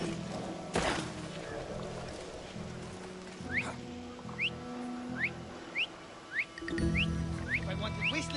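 A character in the video game Assassin's Creed Odyssey whistles a run of short rising chirps, repeated in a quick even series over low game ambience and faint thumps, fairly close and moderately loud.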